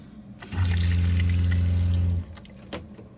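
Water gushes from the sink and shower combo in a 2018 Winnebago Travato camper van, a steady loud stream that starts abruptly, runs for under two seconds, then cuts off.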